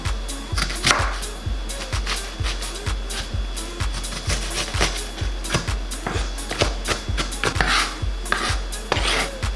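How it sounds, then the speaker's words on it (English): An onion is chopped with a knife on a board, giving a brisk, regular run of sharp taps, about two per second, close and fairly loud, mixed with soft scraping and shuffling. "Next I'm going to chop my onion."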